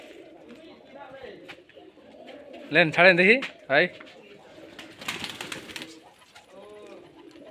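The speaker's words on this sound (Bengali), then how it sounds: "যাকে বলে মাছ রঙা বাজি কবুতর" Rajshahi Giribaz tumbler pigeons coo softly in the background while someone talks throughout; a louder burst of voices and movement breaks in near the middle.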